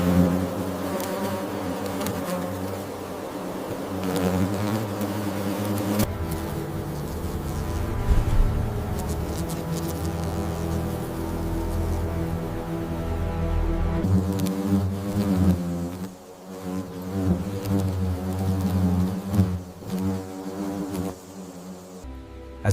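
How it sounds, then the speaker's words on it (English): Paper wasps swarm to defend their nest against a giant huntsman spider, a thick, continuous droning buzz of many insects that swells and wavers in pitch for over twenty seconds, loud and close with no voices. "The wasps respond instantly,"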